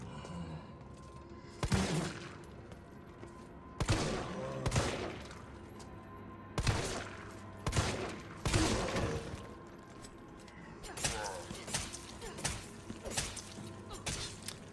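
Bursts of gunfire from the Resident Evil 3 Remake demo, loud clustered volleys of rapid shots separated by short lulls, with game ambience and impact noise in between.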